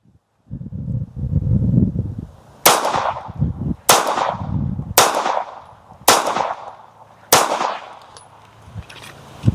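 Five sharp pistol shots from a ported compact handgun, fired one at a time at roughly one-second intervals, each a loud crack with a short decaying tail, preceded by a brief stretch of low rumbling wind noise.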